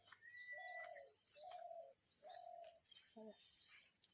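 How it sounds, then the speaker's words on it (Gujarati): Birds calling around a quiet resort in Sasan Gir, with a dove's repeated cooing phrases, bright chirps and a steady high insect drone, heard from a middle distance in calm surroundings. "ચકલીનો અવાજ આવે છે,"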